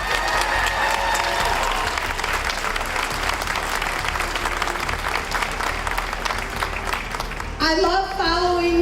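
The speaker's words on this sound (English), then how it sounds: "let's give Ed and Equality Ohio a big round of applause" An audience at an outdoor marriage equality rally in Cleveland, Ohio claps loudly and steadily with scattered cheers, then a voice begins speaking over the fading applause.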